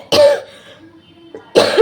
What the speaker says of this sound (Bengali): কাশি আসছে